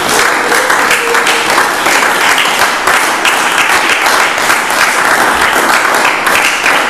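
A church congregation applauds during worship, dense sustained clapping from many hands filling the space, loud and even throughout with no pause.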